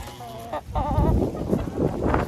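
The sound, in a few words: laying hens clucking while being fed treats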